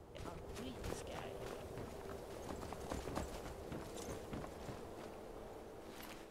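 Horse hooves clip-clopping at a walk in the game Skyrim, a steady rhythmic patter of steps running throughout at moderate level, with a voice talking over part of it.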